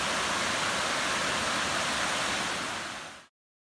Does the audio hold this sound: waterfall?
yes